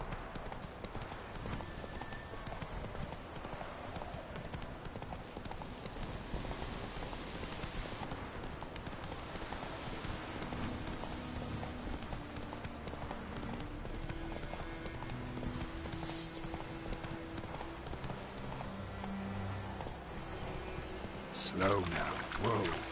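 Roach, the horse in The Witcher 3, gallops at length in a brisk, continuous clip-clop of hooves, close and steady, and gives a brief whinny near the end.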